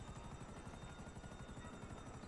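Helicopter in the GTA video game, a steady rapid rotor thump with a whining engine buzz, constant and fairly close throughout.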